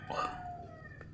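A rooster crows once, briefly and faintly, among backyard chickens kept by a Filipino farmer, with a low hum beneath and no talk.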